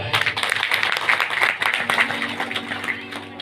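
An audience at a devotional satsang gathering claps warmly for a family, a steady patter of many hands close by, lasting the whole moment and fading slightly at the end.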